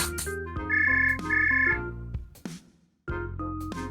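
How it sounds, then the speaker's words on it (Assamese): A mobile phone rings with a melodic electronic tune for an incoming call. The repeating phrases are loud and close, with a brief pause between rings and no talking. "কোনে ফোন কৰিলেনো"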